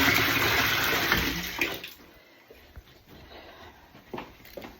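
Water gushes loudly from a tap filling containers at first, then cuts off, leaving faint splashes and drips trickling in a quieter space.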